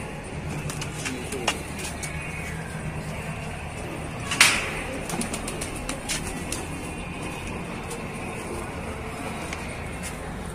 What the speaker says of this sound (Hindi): ये सजानपुरी हरा बहुत ही लाजवाब कबूतर